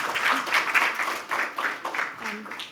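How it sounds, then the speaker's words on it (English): Applause at a finance conference as a speaker is introduced on stage, a moderate, uneven patter of clapping from the crowd that swells and dips over a few seconds before thinning out. "Give her a big round of applause"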